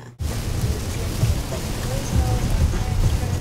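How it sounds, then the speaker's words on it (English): Steady rain heard from inside a vehicle during a road trip in bad weather, a dense continuous hiss and low rumble of water and road noise that fills the whole stretch. "And more rain."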